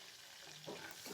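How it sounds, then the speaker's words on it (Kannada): Garlic, curry leaves and turmeric powder frying over a low flame for a North Karnataka style dal curry, giving a soft, steady sizzle with faint stirring scrapes near the end, alone and quiet. "ಬೆಳ್ಳುಳ್ಳಿ ಕರಿಬೇವು ಇದೆಲ್ಲ ಅರಿಶಿನ ಪುಡಿ ಮಿಕ್ಸ್ ಆಗೋ ಥರ ಒಂದು ಕಡಿಮೆ ಉರಿಯಲ್ಲಿ ಫ್ರೈ ಮಾಡ್ಕೊಳ್ಬೇಕು"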